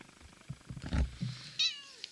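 Cat purring and meowing indoors, a soft low rumbling purr with scattered chirps building to a brief high meow near the end, close and faint.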